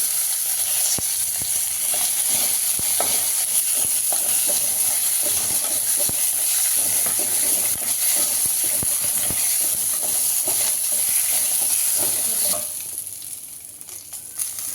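Byadgi red chillies fry in a hot pan with a steady, loud sizzle and hiss, stirred now and then with faint scraping clicks, until the sizzle drops away near the end.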